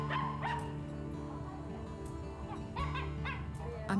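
A dog playing in the streets outside a home barks and yips in several quick bursts, some ending in whimpers, fairly close against a steady outdoor background.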